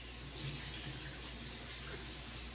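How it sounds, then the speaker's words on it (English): Hands rinsed under a running kitchen tap, a steady, soft rush of water that stays even and fairly quiet throughout the short stretch, with no talking. "I'm just gonna quickly rinse my hands."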